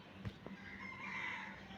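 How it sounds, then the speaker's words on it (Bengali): A rooster crows faintly from far off in a rural yard, with a thin, drawn-out call that rises above soft wind and a steady outdoor background hiss. "ওই যে মোরগ ডাকে"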